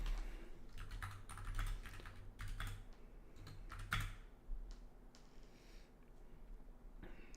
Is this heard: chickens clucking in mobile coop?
no